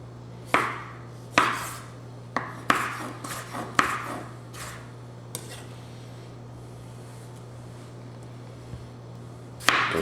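A knife slices through firm tomatoes, giving a series of crisp, sharp cuts against a board that come irregularly and thin out toward the end, fairly close over a steady low hum.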